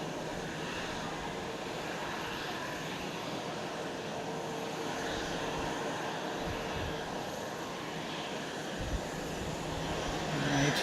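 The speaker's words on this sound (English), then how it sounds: "we've got a takeoff down here, propeller" An ATR 42 turboprop takes off from Fukuoka International Airport, its propeller engines a loud, steady broadband roar heard from a distance, holding level and swelling slightly toward the end.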